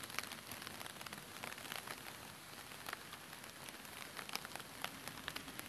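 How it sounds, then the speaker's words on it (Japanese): Rain falls steadily at a Japanese shrine beside a waterfall, a faint, continuous patter of drops with no voices. "雨降ってんだよな。"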